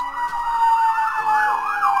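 An ambulance siren wails outside in a steady rising and falling pattern, clear and fairly loud, with nothing else heard.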